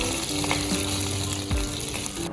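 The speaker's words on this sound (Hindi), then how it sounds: "अब चना दाल को कुछ सेकंड के लिए रोस्ट कर लेंगे हम।" Mustard seeds and chana dal roasting in hot oil for lemon rice, a steady close crackling sizzle with a low clatter near the middle, no talking.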